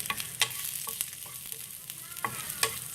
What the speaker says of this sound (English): fry till the ginger turns a little golden